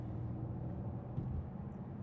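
Low, steady rumble of a 2014 Bentley Continental GT V8 S, a 4.0-litre V8 automatic coupe, burbling evenly at idle or low speed, with a single slightly louder pulse midway and no talking.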